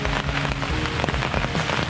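Steady rain pattering on a surface at a fishing spot, dense and continuous with scattered sharper drops throughout, fairly close and moderately loud.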